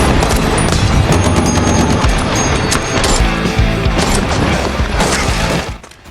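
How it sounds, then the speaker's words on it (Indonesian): A gunfire shootout inside a palace: loud, dense bursts of rapid shots crackle nonstop with sharp impacts, then cut off abruptly near the end. "Hingga terjadilah aksi tembak-tembakan yang hampir menghancurkan isi istana tersebut."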